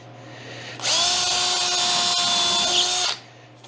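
A power drill drives a 3-inch screw into wood, countersinking the head, with a loud steady whine of about two seconds that starts and stops abruptly, up close and alone.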